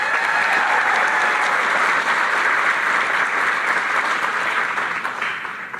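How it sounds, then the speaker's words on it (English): An audience applauds at a Vice President Harris event in Arizona, dense sustained clapping that holds steady and starts to thin toward the end. "let's give them a round of applause"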